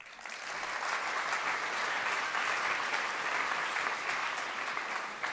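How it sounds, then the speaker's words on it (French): Audience applause at a national science-communication contest final, a broad continuous wash of many hands clapping that swells quickly and holds steady and loud throughout. "on peut l'applaudir"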